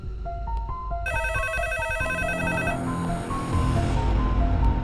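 A telephone ringtone plays at moderate volume, a bright electronic melody repeating, with low rumbling background noise and no speech.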